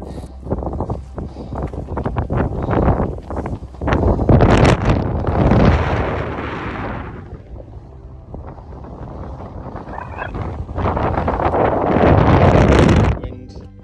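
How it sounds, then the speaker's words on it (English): Strong, gusting wind roars across a mountain summit at Great Cockup in the Lake District, buffeting the microphone in heavy surges that swell and ease over several seconds. "Wind."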